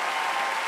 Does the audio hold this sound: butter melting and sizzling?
no